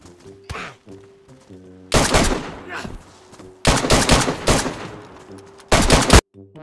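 Gunfire in the survival game DayZ comes as several loud bursts of rapid shots, each lasting about a second, separated by quieter stretches with a faint tonal hum underneath.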